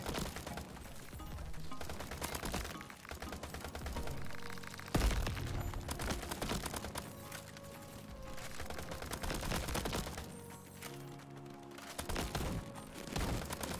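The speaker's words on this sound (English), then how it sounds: "This guy shooting at me" Crab Champions gunfire crackles in dense, rapid bursts over a busy bed of game effects and music, with sharp repeated shots and a heavy boom partway through.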